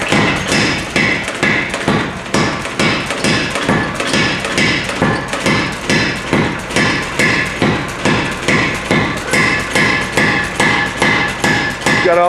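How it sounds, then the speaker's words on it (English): A power hammer pounds a Damascus steel billet into a thin blade, a fast, steady run of loud, heavy metallic blows repeating several times a second without pause. "He's using the power hammer to spread it out and pound it down into a thin blade."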